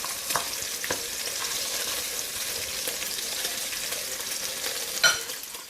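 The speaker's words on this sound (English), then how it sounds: "I'm going to brown the outside of the ribs. I have the stove on medium." Ribs brown in a pan on a stove at medium heat, a steady quiet sizzle and crackle with a few clinks and scrapes from stirring or turning, no one talking.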